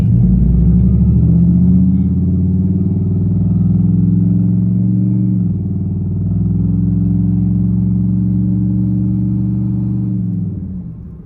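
A cammed 2008 Impala SS with a full 3-inch straight pipe exhaust gives a loud, deep, lumpy rumble that swells and eases with light revs, then fades out.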